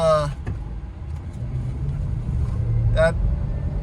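A 2008 Range Rover Supercharged engine held at full throttle gives a steady, loud, low roar throughout, with brief voice sounds near the start and again about three seconds in.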